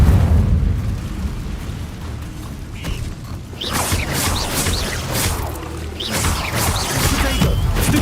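A fire spell goes off in a Harry Potter video game, a burst of crackling, popping blasts with a low rumble that builds and keeps going for several seconds amid the game's background sound.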